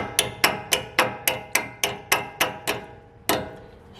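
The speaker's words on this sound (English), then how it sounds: "hammer and knock it all the way in" Ten sharp metallic hammer taps in a steady rhythm knocking a brake clip into place during a front brake job, then a short pause and one more strike, close by with nothing else in the background.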